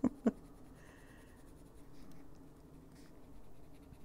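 Colored pencil scratches across paper on an adult coloring page, two sharp taps at the start followed by a soft, steady scratching.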